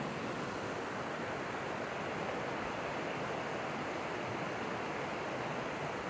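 River water flowing downstream, a steady, unbroken rushing wash that stays even and moderately loud throughout, with no voices.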